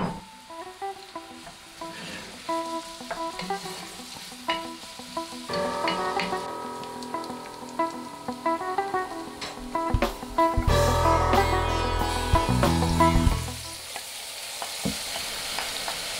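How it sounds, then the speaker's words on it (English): Onions frying in oil in a pot for a lamb curry, stirred with a utensil: a steady sizzle runs throughout, with scraping stirs and clatters growing louder midway and peaking in a dense burst near the end, no talking. "Add your onions to the pot, give them a good stir and let them cook till they start to go translucent"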